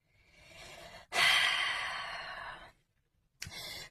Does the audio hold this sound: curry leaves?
no